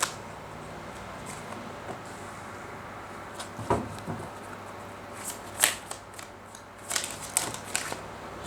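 Tarot cards shuffled and riffled by hand during a reading, soft papery flutters with a few sharper snaps and slaps of the deck coming in short irregular bursts against a quiet room.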